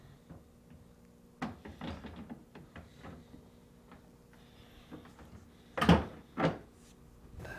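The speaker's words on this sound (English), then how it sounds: "To install the freezer door, align the hanging tabs near the bottom of the door to the slides" Whirlpool refrigerator freezer door being hung onto its drawer slides, with scattered plastic and metal knocks and clicks, then two louder clunks near the end as the door seats.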